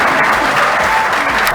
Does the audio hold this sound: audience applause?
yes